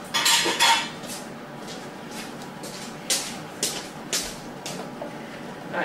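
Utensils being washed in a kitchen sink: metal cutlery and dishes clink and clatter in several sharp bursts over a low wash of running water, close and fairly loud.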